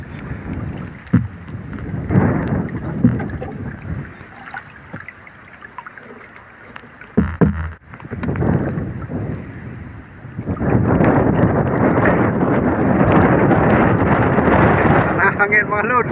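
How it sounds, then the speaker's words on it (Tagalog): Strong gusts buffet the microphone on a small boat out fishing in the rain, with rough roaring bursts that turn into a sustained heavy rush near the end, while someone speaks at times in between. "Masyadong mahangin."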